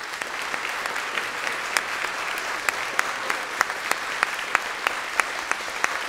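A debate audience at Brain Bar claps to vote, a continuous crowd applause with a few sharper individual claps popping out near the listener, holding steady at moderate loudness.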